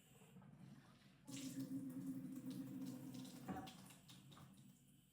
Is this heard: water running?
yes